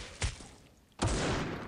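Two sharp gunshots in a video game, spaced about a second apart, each a loud broadband crack followed by a lingering tail, with no talk over them.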